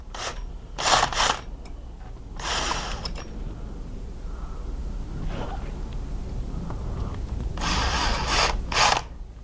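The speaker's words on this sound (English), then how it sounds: "make a little spot drill mark in both spots" Short bursts of a power drill whirring as it spot-drills holes in a metal swing arm tab, several brief runs separated by pauses, fairly close with a low background hum.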